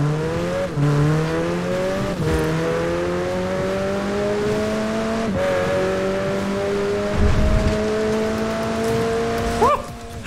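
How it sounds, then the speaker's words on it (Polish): Austin 7 car in Forza Horizon 4, its small engine droning steadily and climbing through gears with pitch rising and dropping at each shift, a continuous close motor whine over the whole stretch. "Dostałem jakiś samochód, Austin 7."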